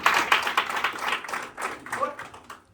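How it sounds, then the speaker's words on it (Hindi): Applause and scattered clapping from an audience at an event in Mount Abu, moderately loud and uneven, mixed with a voice talking over it. "जोरदार ताली होना चाहिए।"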